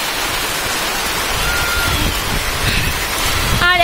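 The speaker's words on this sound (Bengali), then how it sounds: "এই দেখো কি বৃষ্টি হচ্ছে" Steady rain pours outdoors in a Bengali village, a continuous broadband hiss with no pauses, moderately loud and close, and a brief faint tonal sound right at the end.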